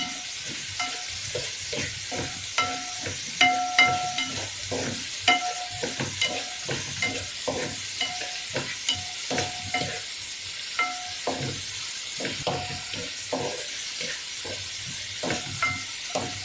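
Fenugreek leaves and fried potatoes sauté in a pan under a steady hissing sizzle, with frequent rhythmic scrapes and clicks of a spatula stirring throughout, close and moderately loud.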